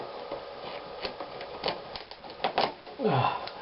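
A plastic Meccano part being cut, a series of sharp close clicks and crunching snips in uneven rhythm, ending in a longer scraping cut, with brief breathy vocal sounds between.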